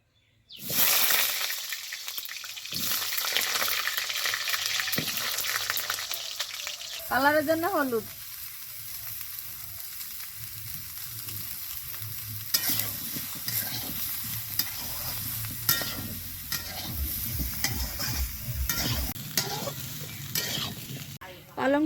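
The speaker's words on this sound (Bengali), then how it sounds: "সবজিগুলো ভেজে নেব" Fresh home-grown vegetables fry in onion-flavoured oil in a kadai for vegetable biryani, a constant close sizzle broken by repeated scraping stirs of a spatula, with brief squeaky tones and faint background voice.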